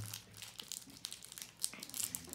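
A Swedish snack wrapper for a cookies-and-cream treat is torn open by hand, producing soft crinkling and crackling plastic in several quick bursts, close and fairly quiet.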